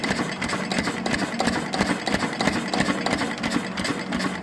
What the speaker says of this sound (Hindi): देखिए ना कोई धुआं ना कुछ, बड़ा मेंटेन चल रहा है एकदम